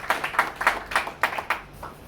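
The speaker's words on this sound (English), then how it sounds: "So a big round of applause, please join me for Tanisha Crasto." Audience at a Goa badminton event applauding for Olympic badminton player Tanisha Crasto, a short patch of scattered, fairly light handclaps heard at moderate distance with no other sounds.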